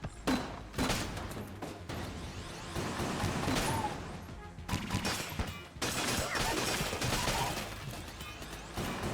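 Repeated gunfire from the meat gun in Enter the Gungeon, heard as clusters of loud shots and impacts in irregular bursts, with short gaps between volleys.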